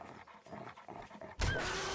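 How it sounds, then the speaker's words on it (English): A dog in the survival game 7 Days to Die gives a short burst of close snarling and barking, faint at first and then louder, with no talk over it. "Stupid dog. Bad dog."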